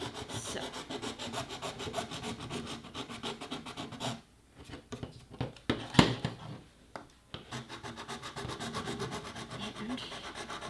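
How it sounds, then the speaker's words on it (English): Hand-filing a thin plastic part for a Han Solo blaster prop: steady, close scratchy rasping strokes, briefly pausing with a few sharp scrapes midway before the continuous rubbing resumes. "I'll end up just filing a hole right through the piece here"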